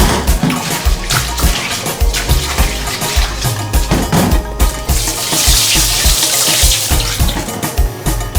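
Rice being washed under running tap water in a kitchen sink, a steady loud stream with splashing and swirling of grains, continuous throughout with no talking.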